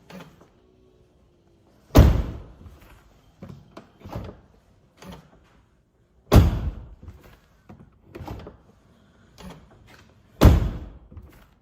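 Three heavy Lincoln Town Car door closings land several seconds apart as solid, close thunks. Quieter clicks and latch sounds come between them.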